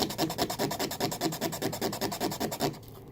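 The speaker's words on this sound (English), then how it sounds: "I'm just going to take the sandpaper and I'm just going to sand it down just a little" Sandpaper rubs back and forth over a wooden piano part in steady, rhythmic rasping strokes, close and fairly loud, stopping near the end with no talking.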